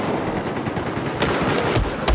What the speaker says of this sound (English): Oh, I killed somebody with a pistol.